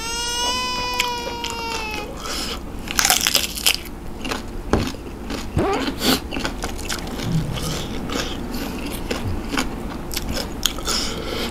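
Crunchy chewing of springy tako octopus tentacle dipped in spicy seafood sauce, with close, repeated bites and crunches over steady background noise and a faint voice.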